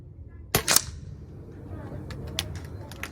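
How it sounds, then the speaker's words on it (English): Two sharp cracks from a Zbroia Hortitsia mk3 air gun fire close together at a target, followed by a few fainter metallic ticks over a low background hum. "John's going to do 10 shots."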